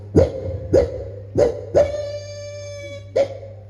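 A dog gives several short, mournful yelps that stretch into one longer howl, close by with no talking.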